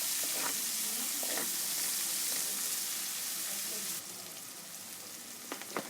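Potatoes frying in a pan for an egg and potato breakfast, a steady close sizzle with occasional stirring scrapes, which quiets partway through.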